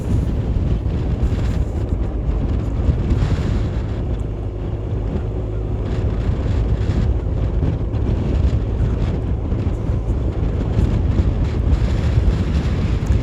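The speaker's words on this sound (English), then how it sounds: "Heavy headwind, folks, a heavy headwind facing us." Heavy headwind roars steadily across the microphone during a cycling road race in Belmopan, a constant dense low buffeting rumble with no pauses, loud and close throughout.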